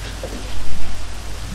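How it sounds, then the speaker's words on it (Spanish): Rain falling in the Minecraft video game, a loud, dense, steady hiss of drops with no voices over it. "justo se pone a llover"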